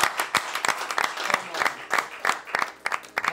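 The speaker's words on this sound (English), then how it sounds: "that deserves a round of applause," Applause for a dish at a food tasting: a lively burst of clapping from a small group, close and continuous, with scattered sharp claps throughout.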